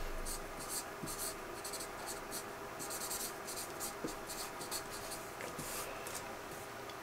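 Pen scratching across paper at close range, giving continuous rough strokes in short bursts and squiggles for several seconds, with no talk over it.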